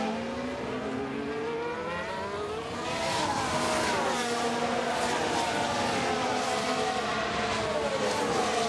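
Race cars in F1 Manager 23 howl through a Spanish Grand Prix, engine notes rising and sweeping past in overlapping layers, growing louder and fuller midway and staying dense to the end, with no talk.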